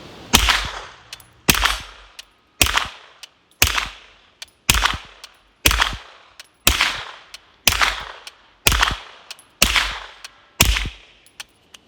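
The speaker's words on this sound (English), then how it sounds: "And we'll just shoot them in the dirt too, even though steel's fun." Suppressed gunshots from 124 grain rounds fired into dirt come as about eleven sharp, loud reports, one roughly every second, each followed by a short decaying echo.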